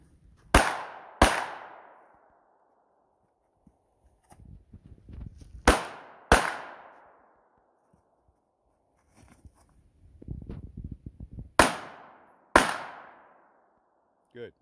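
Pistol shots at an outdoor shooting range during a basic pistol class, fired in three pairs of sharp loud cracks with ringing tails, with quieter shuffling and movement between pairs.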